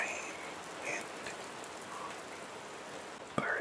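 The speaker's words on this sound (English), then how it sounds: "rustle of leaves or a nice cool rain" Gentle, cool rain falls steadily in a soft even patter, with a brief sharper tap near the end.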